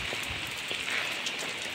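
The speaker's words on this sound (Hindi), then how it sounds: "एमती वर्षा चली पूरा प्रबल" Heavy monsoon rain pours down steadily onto surfaces outside a shop, a dense, even hiss of drops with occasional louder spatters, close and continuous.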